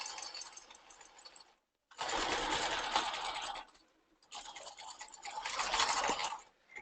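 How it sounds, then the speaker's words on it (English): A sewing machine straight-stitches a men's ballet tunic in three steady runs separated by short pauses, with a close, even whirring hum. "now I'm going to go ahead and straight stitch the rest of it"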